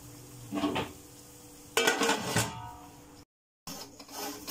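Metal pots-and-pans clatter as a lid goes onto a pot of special mutton curry: a light scrape, then a louder rattling clank, a brief silence and another short metallic shuffle, close by.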